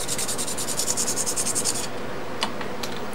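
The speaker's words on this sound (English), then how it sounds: "Now the work starts by roughing up the tube with some sandpaper." Sandpaper roughing up a model submarine launcher tube for an Ohio-class model build: a steady close rasping scrub in rapid back-and-forth strokes, ending with a few isolated scrapes.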